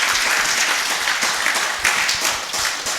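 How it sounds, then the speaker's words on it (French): Congregation at a church service clapping their hands, dense steady applause close and loud throughout a few seconds. "Who can clap their hands because Jesus loves them?"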